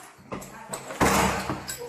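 Police officers kick at an apartment door, a series of heavy thuds and a louder crash as it gives way, close and sharp with brief muffled voices between blows.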